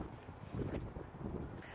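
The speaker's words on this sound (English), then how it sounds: "I realized it's a little windy" Breezy outdoor wind buffets the microphone on an open field, a low, uneven rushing that swells and dips in gusts across the short stretch.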